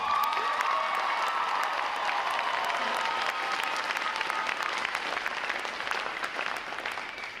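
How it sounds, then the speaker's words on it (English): Audience applause at a Navy boot camp graduation ceremony, a broad, sustained wash of clapping with some cheering mixed in, loud at first and gradually tapering off over about seven seconds. "How about a round of applause for that?"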